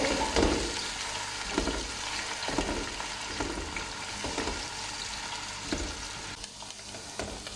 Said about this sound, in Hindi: प्याज का कलर लाइट पिंक होने तक मीडियम फ्लेम पे फ्राई करेंगे।